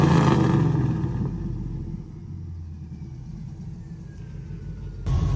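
A lifted 2005 Chevy Silverado pickup on 24x12 chrome wheels runs close by, its engine giving a brief louder rev at the start before settling back into a steady, low idle rumble.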